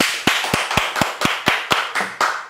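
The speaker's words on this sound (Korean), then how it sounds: "박수 치세요." Rhythmic unison hand clapping from a church congregation during a sermon, about ten sharp even claps in a steady beat, close and fairly loud with no talk over them.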